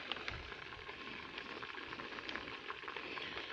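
Food browning in a pan gives off a steady, even sizzle and crackle, fairly close and continuous with no voices over it.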